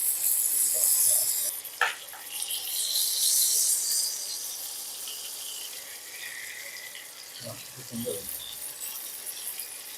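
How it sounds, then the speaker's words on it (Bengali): Prawn paturi frying in a pan gives a steady, bright sizzle that is loudest in the first few seconds, with a sharp tap near two seconds and a few soft clinks later on. "আমার এক পিঠ ভাজা হয়ে গেছে, এরপর এটাকে উল্টে দেব, ওই পিঠটাও ভেজে নেব।"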